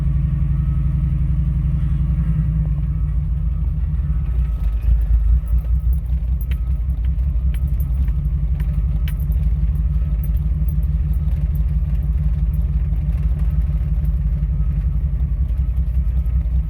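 Car engine fitted with an Offenhauser dual port intake manifold, running on propane at a steady 1250 RPM; a continuous, loud low rumble holds throughout with slight rough pulsing and no talk.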